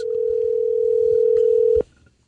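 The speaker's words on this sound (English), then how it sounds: "So I got on the phone and made the call twice." A steady, loud single-pitch telephone tone sounds while a call is placed, then cuts off abruptly, leaving faint quiet behind.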